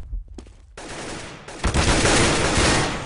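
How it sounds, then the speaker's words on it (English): Rapid automatic gunfire from a 2013 competitive first-person shooter esports match, a burst of dense, loud shots that starts after a brief gap and grows into a sustained hail of fire. "leaving it all up to Kristen, who also gets taken down in a hail of gunfire"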